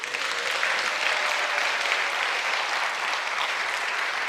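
Steady applause from a church congregation honoring an elder after his talk at a Wednesday evening service, a dense, even clapping that fills the room without a break.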